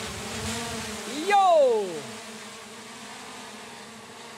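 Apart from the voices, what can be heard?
drones taking off and flying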